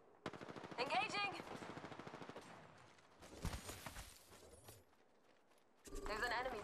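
Rapid machine-gun bursts hit the player in a ranked online shooter match, clattering in quick volleys that start and stop, with voice lines over the fire.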